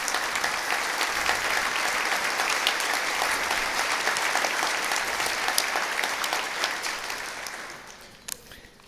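Diners at an annual dinner give steady, full applause that carries on for several seconds, then fades out with a final clap or two.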